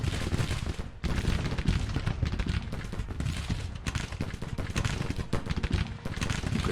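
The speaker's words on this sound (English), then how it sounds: "they're firing on the units that are moving across the bridge" Dense, continuous rattling gunfire from massed infantry units in Grand Tactician: The Civil War, overlapping volleys crackling without pause at a loud, steady level, with no talking.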